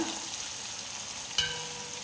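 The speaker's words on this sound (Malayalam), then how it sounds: "മസാല ഐറ്റംസൊക്കെ അതിലേക്ക് ചേർത്ത് വഴറ്റാം." Tomato and masala spices being sautéed in a pan for Kerala-style nadan beef curry, with a steady close sizzle and a brief stirring scrape partway through, no voices.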